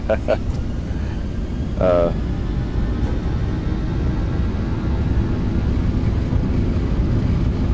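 A Boeing 737-900 on its takeoff roll down runway 23 right in the X-Plane flight simulator gives a steady, loud engine roar and rumble that runs unbroken through the whole clip, with a brief voice near the start.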